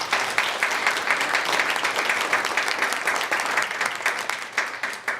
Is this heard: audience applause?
yes